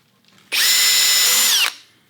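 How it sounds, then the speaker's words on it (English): Power drill boring a hole in wood while installing stairs, a single loud close whine lasting just over a second with a slight pitch drop near the end, then quiet. "Once I get the hole drilled"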